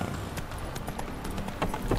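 In The Witcher 3: Wild Hunt, a horse gallops with quick, steady clip-clop hoofbeats, close and continuous over a low game ambience, briefly and alone without talk.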